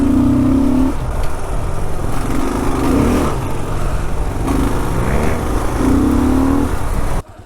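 Kawasaki KLR650 motorcycle engine running steadily while riding a dusty, slippery off-road trail, a loud continuous drone close to the rider with gentle rises and falls in pitch, no talk over it.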